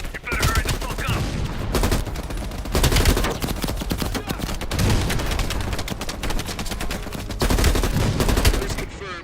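Sustained bursts of heavy machine gun fire in Call of Duty Black Ops Cold War, loud rapid rattling volleys that run almost without pause across the whole stretch, with no voices over it.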